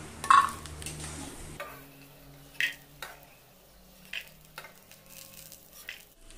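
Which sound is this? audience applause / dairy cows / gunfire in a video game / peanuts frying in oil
peanuts frying in oil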